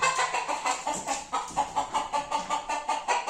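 Free-range village chickens cluck in a quick, steady rhythm on a farm, close by and fairly loud, with no voices over them.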